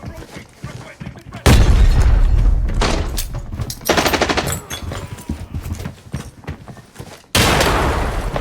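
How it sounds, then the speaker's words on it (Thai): A grenade explodes in the shooter game Arena Breakout, a loud sudden boom followed by bursts of gunfire, with a second heavy blast near the end and a voice talking underneath. "ระเบิด"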